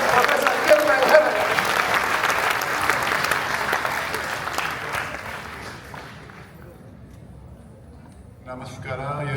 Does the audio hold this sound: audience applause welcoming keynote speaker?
yes